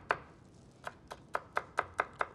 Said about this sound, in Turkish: Öncelik şöyle bir soğanımızı küçük küçük doğrayacağız.